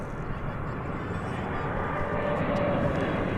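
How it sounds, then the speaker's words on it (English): A Qatar Airways Boeing 777 airliner arriving at Dallas Fort Worth airport, a loud steady jet engine roar with a broad rushing hiss that holds throughout, heard from nearby without talk over it. "speaking of Qatar, the big 777 has arrived."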